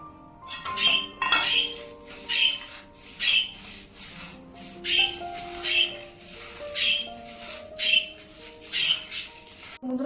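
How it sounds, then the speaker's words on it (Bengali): Gobindobhog rice being mixed with ghee in a bowl, a spoon clinking against the rim in a steady rhythm of sharp taps, with a faint tonal background underneath. "এখানে আছে কিছুটা গাওয়া ঘি দিয়ে চালটাকে প্রথম মেখে দিচ্ছি"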